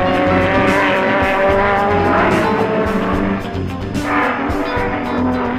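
A racing car at the Targa Florio road race roars loudly and close, engine tone rising and shifting with a brief tire squeal, continuous throughout with no speech.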